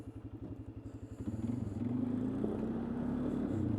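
A Polaris Sportsman ATV running with a steady low engine rumble that starts in quick pulsing beats and smooths into a continuous drone, with loose rattling and clatter, close by and with no speech.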